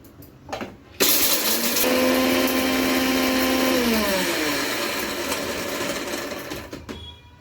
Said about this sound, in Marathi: हा हिरा हिंग आहे तो आपण बारीक करून घ्यायचा